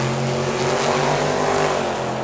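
Drag racing cars launch down Tucson Dragway with a loud, sustained engine roar and a droning tone, close by and without talk.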